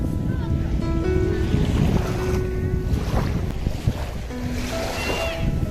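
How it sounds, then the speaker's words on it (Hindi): Sea waves wash in at La Mer beach in Dubai, a steady roar of surf and rushing water with wind buffeting the microphone throughout, joined by scattered faint background voices. "देखें पानी का बहाव कैसे बढ़ रहा है."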